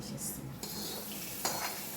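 A hot tempering of cumin, mustard seeds, dried red chillies and curry leaves goes into a tamarind-leaf chutney and is stirred in. There is a brief sizzle, then utensils scrape and clink against the vessel, close by with no talk.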